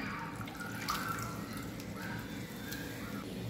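A glass of water pours into cooked toor dal with tempering in a pan, making a steady, moderately loud liquid rush that lasts throughout.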